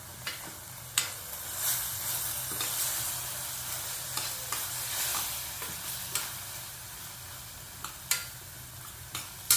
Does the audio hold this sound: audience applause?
no